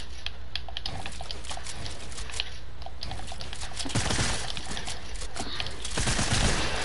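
SMG fire in a video game crackles as rapid bursts of shots, steady close clatter with denser stretches around the middle and end.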